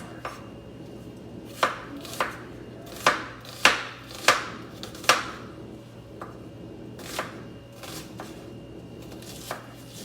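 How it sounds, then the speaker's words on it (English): A knife chops onions roughly on a cutting board, a cluster of sharp thuds followed by sparser scattered strokes, close and crisp over a low steady kitchen hum. "And you just kind of want to do a rough chop, nothing too fancy."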